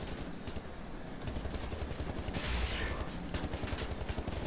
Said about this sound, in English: you can keep shooting at me if you want